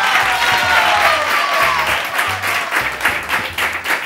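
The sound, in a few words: applause for Manu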